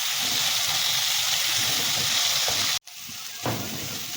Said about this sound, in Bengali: এখন এটা আমি একটু হালকা মতো করে পটলটাকে ভেজে নেব।